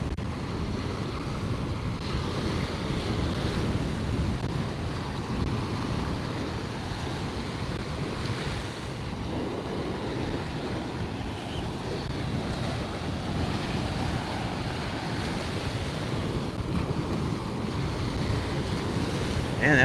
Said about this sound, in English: that wind is getting strong now